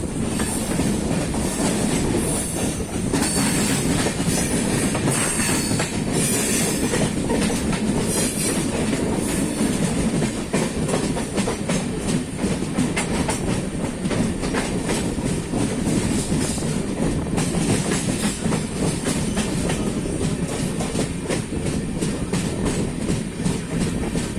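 A passenger train between Changanassery and Ottapalam switches from one track to another, giving a loud, steady rumble with continuous wheel clatter and faint squeal throughout, no voices.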